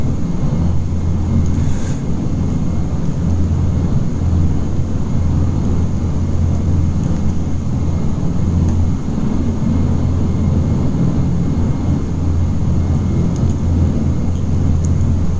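Inside the cockpit of a Dash 8 Q400 turboprop during climb, the engines make a loud, unbroken drone with a steady tonal hum, and no one speaks.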